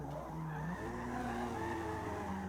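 Tires squeal and skid continuously as a car drifts down a mountain road in Forza Horizon, wavering pitch over a steady engine hum, with no talking.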